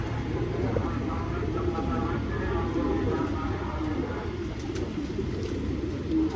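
Purple-footed pigeons coo softly in a loft among a champion fancier's flock, a low steady burble set against constant background noise, with someone talking over it.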